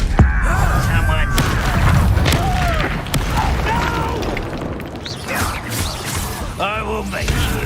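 In a Hogwarts video game, an Incendio fire spell bursts with a booming blast amid layered combat effects, whooshes and pops, while character voices shout over the chaotic action.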